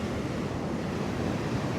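Ocean waves wash steadily onto a beach in a continuous, loud roar, mixed with wind buffeting the microphone.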